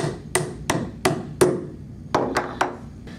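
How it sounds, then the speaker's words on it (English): Sharp metallic hammer taps ring out as an axle is tapped into a wheel, seven strikes in two loose groups, close and clear with no talking. "Take a hammer and tap that in."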